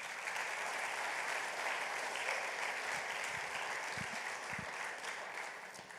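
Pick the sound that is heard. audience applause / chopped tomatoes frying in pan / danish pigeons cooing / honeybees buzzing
audience applause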